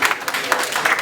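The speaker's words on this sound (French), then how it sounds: "veuillez les applaudir" A brief burst of audience clapping for participants of an agricultural entrepreneurship training program, fairly close and steady over about a second.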